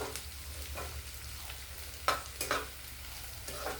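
Ridge gourd and potato frying in a pan, with a faint low sizzle and a few sharp stirring scrapes near the middle and end, quiet and close.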